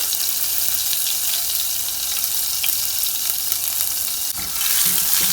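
Panch phoron spices, chopped green chili and ginger fry in hot oil, giving a steady, bright hiss and crackle that stays close and fairly even throughout, with a brief clatter near the end and no talking.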